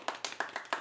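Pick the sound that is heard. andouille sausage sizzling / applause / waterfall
applause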